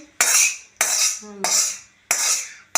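Food is mixed with oil in a pan in repeated strokes, four or five sharp metallic scrapes and clinks of utensil on metal at a regular rhythm, close and loud, with a faint voice between strokes.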